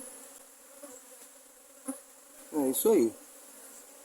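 Bees at a queenless hive hum faintly and steadily, with a couple of louder close buzzes passing near the end; someone says a brief phrase.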